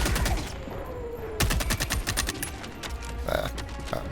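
Gunfire and explosive blasts from a grenade pistol and impact grenades in Helldivers 2, a dense, rapid burst of shots and bangs running under faint background talk.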